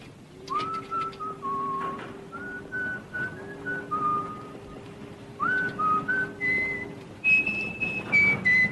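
A person whistles a wandering tune aboard a ship, long sustained notes alternating with short rising phrases, clear and close in a quiet setting.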